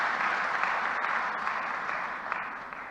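An audience at a Bhopal International Women's Day event applauds steadily for about three seconds, a dense wash of clapping heard from within the crowd that tapers slightly toward the end.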